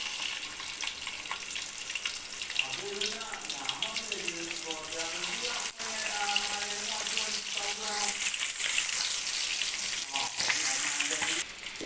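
Quail pieces fry in hot coconut oil, giving a steady, loud sizzle and crackle throughout, with faint voices and tonal sounds running over the frying.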